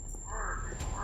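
Crows in a tree give a short burst of cawing over loud outdoor rumble and handling noise, with a steady high tone running through the brief moment.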